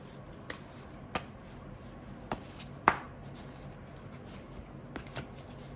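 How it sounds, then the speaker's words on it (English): Tarot cards are handled and shuffled during a reading, giving a few sharp, scattered card snaps and taps over a soft background, with no one talking. "Let's first remove some tarot cards."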